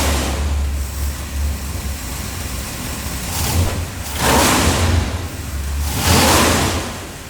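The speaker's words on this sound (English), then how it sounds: "just hearing the engine on the dyno, hearing it rev" A large engine on a dyno idles with a lumpy rumble, then revs up sharply twice in succession, each rise loud and close before dropping back.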